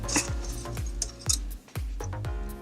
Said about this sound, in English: you want to take your cup and a scoop of the ice